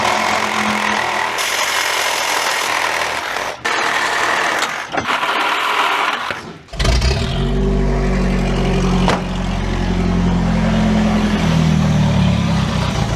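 An old Toyota 4Runner, left sitting for ten years, first has its exhaust cut with a grinding, buzzing tool, then its engine runs loud and rough through the open pipe, close up.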